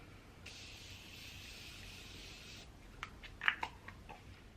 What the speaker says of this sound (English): I'm going to be going back in with that Morphe spray